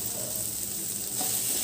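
Ridge gourd being fried with spices and potatoes in a pan for a ridge gourd and prawn curry gives a steady, close sizzle and hiss throughout, with no talking.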